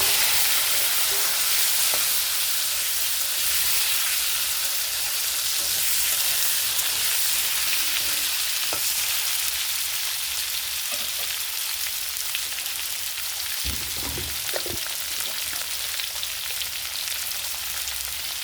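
Raw papaya and potatoes fry hard with already-fried onions in a pan, a loud, close, continuous sizzle with a few scrapes partway through and no talking.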